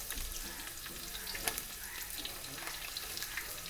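Spices fry with ginger and garlic in coconut oil, making a steady, soft crackling sizzle close by with faint stirring scrapes throughout.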